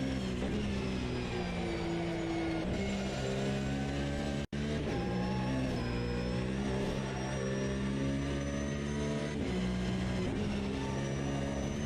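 A race car engine in a racing video game drones steadily and loudly through a long lap, its pitch rising and falling with shifts and revs, with one brief cut to silence partway through.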